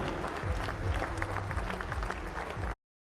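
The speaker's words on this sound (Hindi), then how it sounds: "एक बार जोरदार तालियां हो जाएंगे।" Audience applause at a Pro Panja League arm-wrestling event, a dense steady wash of many hands clapping with crowd noise, loud and continuous before cutting off abruptly.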